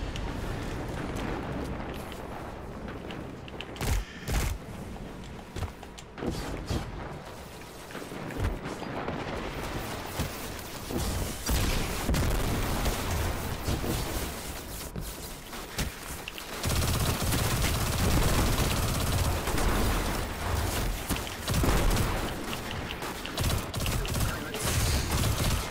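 Rapid gunfire in Destiny 2, dense fusillades of shots and bursts layered with game effects, loud and nearly continuous, with players talking in places.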